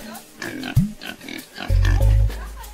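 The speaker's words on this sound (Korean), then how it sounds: "자신들은 먹지도 않는 돼지를 기르기 시작했다." Pigs raised by an Amazon village family grunt and oink close by, a few short snorts followed by longer, louder squealing grunts over about three seconds.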